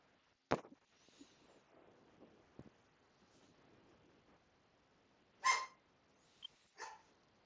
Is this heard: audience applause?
no